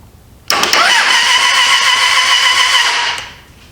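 A Suzuki GSF600 Bandit motorcycle engine cranks over on its starter during a first-start attempt: a steady, loud whirring crank lasting about two and a half seconds, then it winds down without catching.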